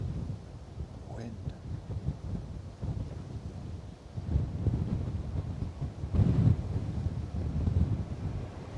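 Steady wind buffeting a microphone outdoors at Bristol Airport, a low rumbling roar that swells louder in gusts toward the end, with faint background activity beneath.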